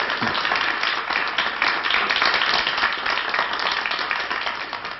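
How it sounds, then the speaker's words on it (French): Jury members on a 1978 French television game show applauding loudly, a steady dense wash of clapping that holds evenly throughout, with faint murmurs underneath. "alors il vous applaudit très fort"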